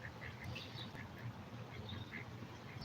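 Ducks on a pond quack repeatedly in scattered short calls, faint and distant over low background rumble, with no talk.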